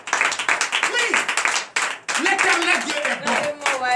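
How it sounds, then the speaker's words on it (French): A church congregation at a morning prayer service in Comè, Benin claps in rhythmic bursts, with loud voices calling and singing over and between the claps. "Je veux que tu applaudis encore."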